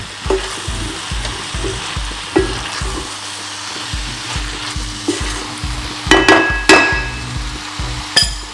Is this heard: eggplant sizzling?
yes